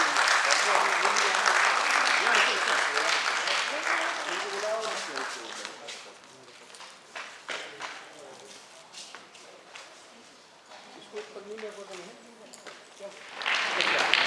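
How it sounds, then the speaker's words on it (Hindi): Audience applause at a ceremony where guests are honoured with bouquets, loud and dense at first, thinning into scattered claps, then swelling again at the end, with voices mixed in. "आप सबसे निवेदन है कि ज़्यादा से ज़्यादा तालियां बजाकर इनका उत्सव बढ़ाएं।"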